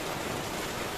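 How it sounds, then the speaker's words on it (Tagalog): Steady rain falls during a holiday motorcycle ride in the Philippines, a dense, even hiss that is faint and continuous throughout with no voices. "Ayaw pa tumigil yung ulan ah."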